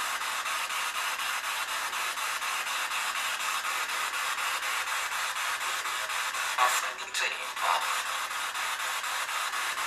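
White noise static from a ghost hunting radio device during a paranormal investigation at a lighthouse, a steady faint hiss with a brief disturbance near the end and no talk.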